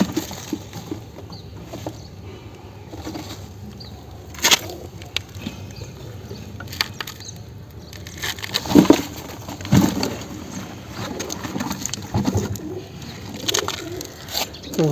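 A black pigeon being handled, with soft cooing, wing flutters and rustling thumps close by, coming in irregular bursts over quiet background noise.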